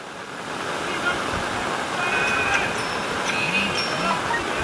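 Steady rushing water fills the clip, a broad continuous roar of floodwater flowing through a housing society in Gujarat, close and loud, with faint voices underneath.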